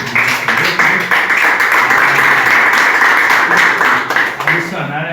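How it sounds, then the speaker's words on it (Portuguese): A congregation claps at a year-end service in an evangelical Pentecostal church, loud sustained applause from many hands with a faintly pulsing rhythm, voices audible beneath it, tapering off near the end. "Vamos dar uma salva de palmas."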